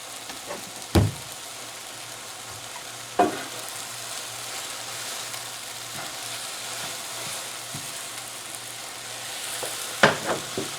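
Apple pieces with sugar cooking in a pan, giving a faint, steady sizzle with a few sharp stirring knocks and scrapes spread across the stretch.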